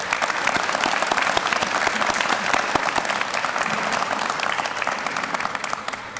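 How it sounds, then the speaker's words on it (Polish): Sustained, dense applause from an audience fills the room at a university branch's academic year inauguration ceremony in Radzyń Podlaski, steady and full throughout with no pauses. "Brawa dla wszystkich z Radzenia Podlaskiego."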